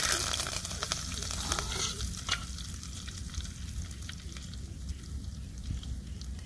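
Four or five cloves fry in hot oil in a pan for vegetable biryani, a soft steady sizzle with faint stirring scrapes and crackles, close and fairly quiet.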